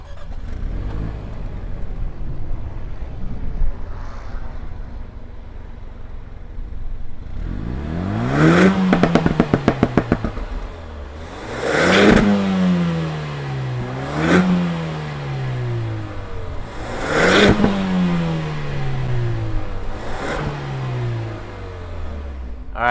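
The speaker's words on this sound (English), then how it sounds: "let's fire this up, put it in dynamic mode, and hear what that exhaust sounds like" A 2021 Jaguar F-Type convertible's exhaust in dynamic mode, starting with a low idle before a series of sharp, loud revs that rise and fall in about five distinct bursts, each dropping back to a burbling idle.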